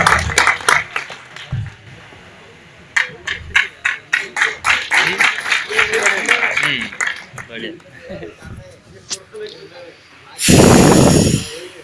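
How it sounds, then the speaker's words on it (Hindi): At a Hindi poetry gathering (kavi sammelan), a loud burst of audience applause rings out near the end to welcome a poet, after a stretch of lively, percussive sounds and voices. "जोरदार ताली से स्वागत करें, दादा हजारी हवलदार आए और अब काव्य पाठ करें"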